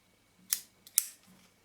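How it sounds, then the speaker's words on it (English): The Yashica-Mat camera's Copal-MXV shutter fires twice, two crisp close mechanical clicks about half a second apart in an otherwise quiet room. "So if we cock the shutter, I can fire it again."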